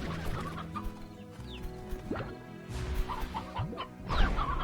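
Hens cluck in the Slime Rancher video game, a busy flock of overlapping clucks and short squawks close by, continuing steadily with no talking over them.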